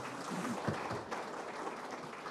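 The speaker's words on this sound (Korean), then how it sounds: "큰 박수 부탁드리겠습니다." An audience applauds at a local democracy symposium, steady clapping from a crowded hall lasting a couple of seconds at moderate distance, with no voices over it.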